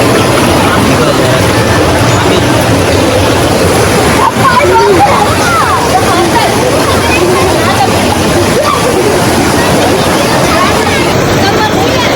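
Spring water flows and splashes near a hidden Ganesh temple at Pokharbav in Devgad, Konkan, a loud, steady, close rush that runs unbroken throughout while voices murmur indistinctly beneath it.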